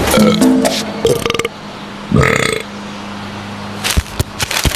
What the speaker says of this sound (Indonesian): Sendawa dan perut kembung, perhatiin dong.